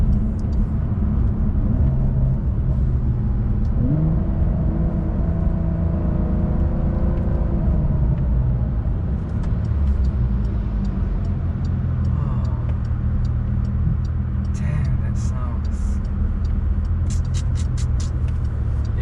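A 992-generation Porsche 911 Carrera 4S engine hums and rumbles steadily at close range while driving, rising into revs, with ticking and clicking sounds toward the end.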